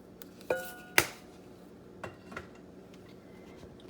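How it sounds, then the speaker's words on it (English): Herbs being stirred through rice in a bowl, heard as a few sharp utensil clinks against the dish, two loud ones close together, then softer taps and scrapes over quiet background. "And I just give it a quick stir."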